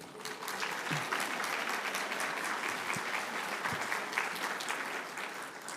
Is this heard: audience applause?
yes